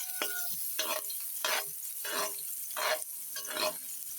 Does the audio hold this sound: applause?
no